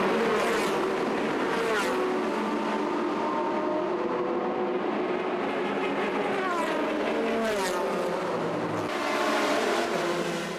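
Roaring GT race cars at the start of a 2000 JGTC race pass in a dense, continuous wall of engine noise, with rising and falling whines and a big crowd, loud and steady throughout.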